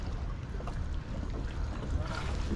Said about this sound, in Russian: Моторы эти, получается, работают.